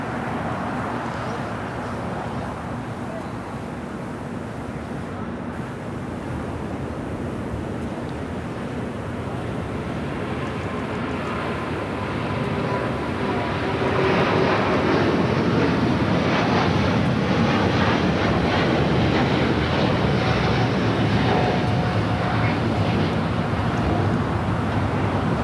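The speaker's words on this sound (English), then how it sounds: "we got the all Dreamliner now rolling down at 25 right" A Boeing 787 Dreamliner on its takeoff roll down runway 25 Right at Los Angeles International, a broad distant roar that swells louder about halfway through and holds steady, with wind buffeting the microphone throughout.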